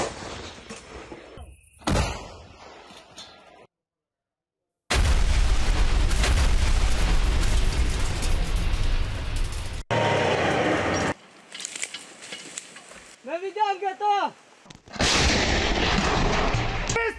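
Artillery and gunfire in a Ukrainian war zone arrive as a jumbled series of loud booms and sharp bangs broken by short silences. Dense noise bursts and abrupt cuts come with brief whistling tones near the end.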